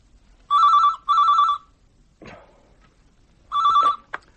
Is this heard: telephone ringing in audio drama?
yes